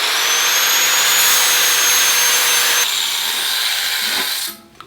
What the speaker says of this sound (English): Now I'm just using a flap disc to do this, which is basically sandpaper on a wheel here